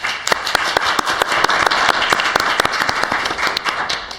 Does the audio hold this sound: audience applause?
yes